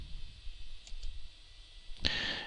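A computer mouse click in a quiet room, one sharp close click near the end after a couple of faint earlier ticks over low background hum.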